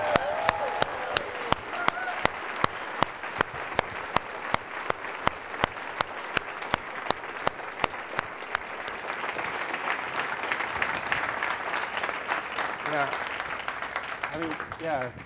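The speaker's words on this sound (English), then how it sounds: "let's put a big round of applause for Katie, Amy, Julia, Barry," Audience applause at an Effective Altruism Global conference talk, a steady wash of clapping with sharp individual claps standing out, lasting throughout and swelling slightly toward the end, with a little talk underneath.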